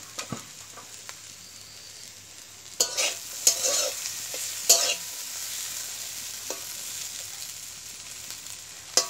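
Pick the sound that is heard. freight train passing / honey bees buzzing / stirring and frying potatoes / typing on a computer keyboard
stirring and frying potatoes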